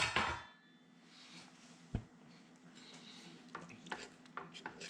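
A spoon stirs corn chowder soup base in a pot, making faint clinks and scrapes against the metal, with one sharper knock early on and scattered light taps afterward.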